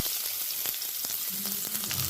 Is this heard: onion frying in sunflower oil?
yes